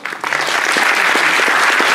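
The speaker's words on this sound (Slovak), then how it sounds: "Veľký potlesk." Loud applause at a Skills Slovakia award ceremony, a sudden start swelling into dense, even clapping from a large audience, close and sustained with no talking over it.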